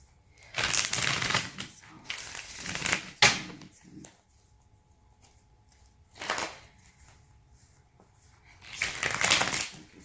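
Tarot cards shuffled by hand in several separate bursts of papery riffling and flicking, close and crisp, with quiet pauses between the rounds.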